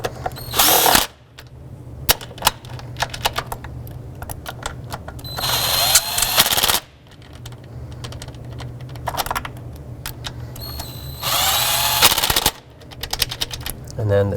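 A power tool snugs Allen bolts on a 2003-2009 Toyota 4Runner engine during a knock sensor replacement, in several loud whirring bursts separated by rattling clicks and handling noise.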